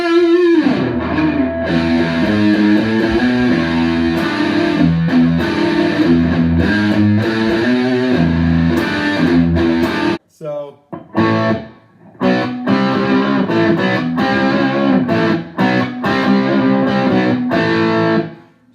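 An electric guitar plays through a Boss Katana 50 amp on its brown distortion setting with gain raised, giving loud, heavily driven chords and riffs, with a brief pause midway before the playing resumes.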